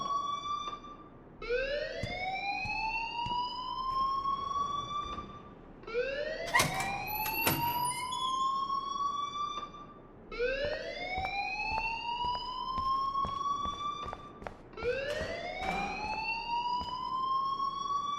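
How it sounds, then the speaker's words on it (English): An alarm blares in the video game Life Is Strange: a rising, siren-like wail that repeats four times at a steady pace, loud and alone with no talk. "please turn off that alarm since that's your job"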